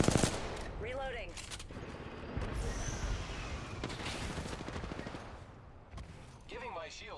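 Video game gunfire in a competitive duo match, sharp shots and quick bursts at moderate distance mixed with booms and game effects, with voice callouts at the start and end.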